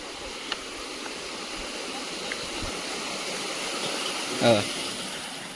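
Slightly muddy water flowing steadily at a village dam in Shidawane, a continuous rushing wash heard at moderate distance, with a brief louder splash near the end.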